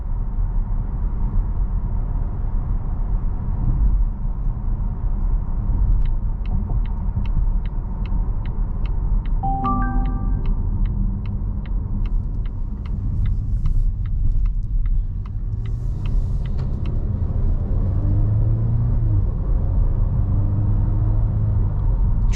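Steady low road rumble and hum inside the cabin of a 2022 Volvo S90 B6 Inscription driving on smooth pavement, with faint ticking indicator-like clicks partway through and no talking.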